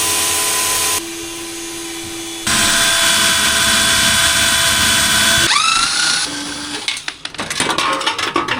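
An old, cheap appliance pump runs with a loud, steady whirring hum and a thin whine. The tone shifts a couple of times, then turns rough and sputtering near the end.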